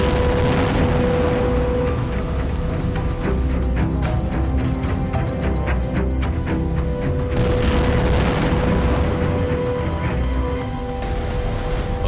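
Continuous loud rumbling booms and blasts from Israeli strikes on Gaza, layered over dense crackling bursts, with heavy low-end energy and no pauses.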